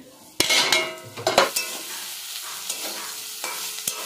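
Food frying in a pan on a home stove, a soft steady sizzle with a few sharper stirring scrapes and clinks near the start, close by, no voices.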